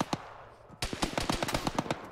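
Gunfire in the military shooter Arma: a quiet stretch with one early shot, then a rapid series of sharp, fairly close rifle shots fired in quick irregular succession. The shots stand alone with no talking over them.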